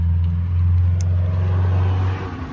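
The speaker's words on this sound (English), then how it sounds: "Did you hear him accelerate?" A car accelerates on a residential street, a deep steady engine drone that builds and holds for about two seconds before easing off, fairly close and with no talking over it.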